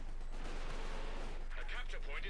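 Artillery barrage in Company of Heroes 2, a steady wall of rumbling explosions and gunfire at constant loudness, with a voice talking over it.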